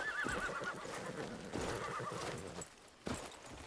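In the video game Crimson Desert, a horse gives a loud whinny, then hooves clip-clop amid the surrounding game sounds.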